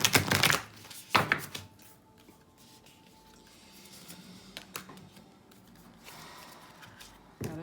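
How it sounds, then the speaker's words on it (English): A deck of tarot cards being shuffled by hand, with quick riffling bursts at the start and middle, then softer scattered card handling and a final flutter, close and fairly quiet. "Gotta shuffle again."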